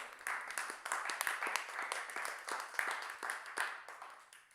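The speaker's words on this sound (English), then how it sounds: "I'm getting addicted to doing this show because I'm being applauded in real time" A live audience claps at a bus tour Q&A show. The applause is faint, made of scattered individual claps in a steady patter that lasts throughout.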